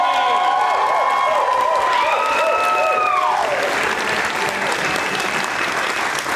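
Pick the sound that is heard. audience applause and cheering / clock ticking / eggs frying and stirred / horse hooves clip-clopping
audience applause and cheering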